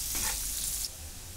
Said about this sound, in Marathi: आता कांदा परतून घेते